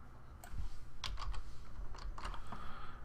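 Typing on a computer keyboard, a quick irregular run of close, crisp key clicks in small bursts with short pauses, alone without talk.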